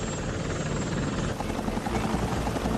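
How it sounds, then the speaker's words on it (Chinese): A remote-controlled helicopter hovers close by with a loud, steady buzzing rotor drone as it is maneuvered to open a beer bottle cap, continuous throughout without talk. "我要控制到飞机的动作量在几毫米之内，才能准确的把啤酒瓶盖打开。"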